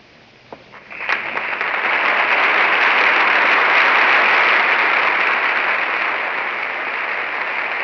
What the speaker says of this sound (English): Again, applause from the entire Metropolitan Opera Company, which is now on the stage.